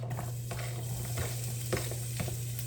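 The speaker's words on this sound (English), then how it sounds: "Got the bacon fat heating. I'm going to go ahead and get the onions" Onions sautéing in hot bacon fat, a steady low sizzle with soft scraping stirs every half second or so, close by over a constant low hum.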